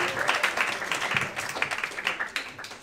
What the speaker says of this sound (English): So if you guys could clap it up real quick, please.